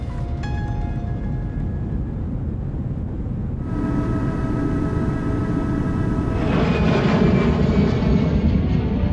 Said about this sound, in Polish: Samoloty. To wspaniały wynalazek, ale dlaczego pokazuję wam samoloty?